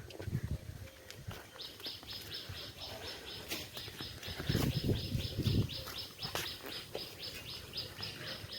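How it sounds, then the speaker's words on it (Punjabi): Birds chirp and tweet repeatedly in a steady series of high, bright calls at a gurdwara, with rustling and a brief flurry of lower noise partway through. "ਪੰਛੀਆਂ ਦੀ ਆਵਾਜ਼ ਉਹ ਕਿੰਨੀ ਸੋਹਣੀ ਹੁੰਦੀ ਆ"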